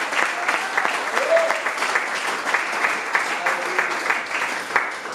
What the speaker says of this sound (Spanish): Den un fuerte aplauso al Señor Jesucristo.